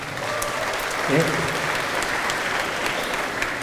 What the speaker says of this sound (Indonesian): boleh tepuk tangan buat Gajah Mada